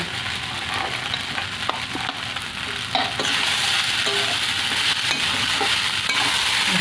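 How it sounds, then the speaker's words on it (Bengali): Fried cashews and raisins stirred into a flattened-rice (chire) pulao in a pan: a steady close sizzle with repeated scraping stirs throughout, and a single word spoken briefly. "এবার ভেজে রাখা কাজু কিশমিশটা দিয়ে দেব।"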